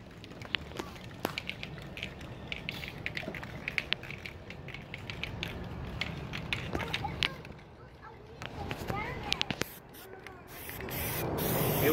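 Aerosol spray can applying a second coat of Plasti Dip rubber coating to a 2018 Ford Explorer wheel, heard as steady hissing bursts with short pauses, fairly close, while people talk at moments.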